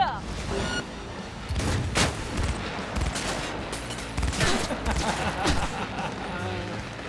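Dense, rapid gunfire from the video game Cyberpunk 2077, loud bursts and booming shots stacking up in a continuous fusillade with a voice talking underneath.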